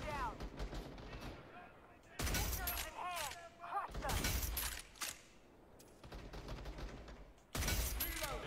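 Rapid gunfire bursts from a multiplayer video game shooter in team deathmatch mode, loud and repeated in several clusters, with someone talking between and over the volleys.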